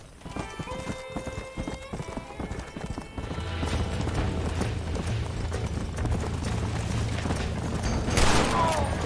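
Horse hooves clip-clopping in the Red Dead Redemption video game, a quick steady trot of hoofbeats with a whinny, later joined by a low rumbling bed and a burst of noise near the end.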